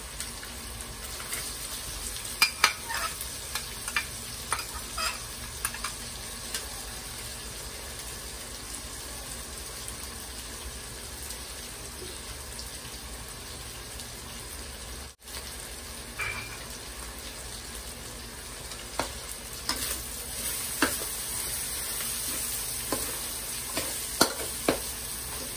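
Ham sizzles and fries in a pan while being stirred for creamy spaghetti, a steady close hiss broken by scattered scraping clicks from the utensil, with no speech.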